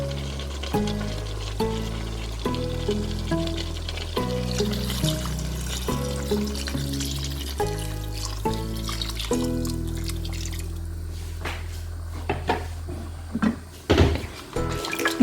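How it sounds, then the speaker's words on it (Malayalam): Coconut milk is poured into a simmering chicken curry in a pan. A liquid pour and a bubbling sizzle sit under steady background music and grow more noticeable toward the end. "ഇനി നമുക്കിതിലേക്ക് തേങ്ങാപ്പാൽ ഒഴിച്ചു കൊടുക്കാം."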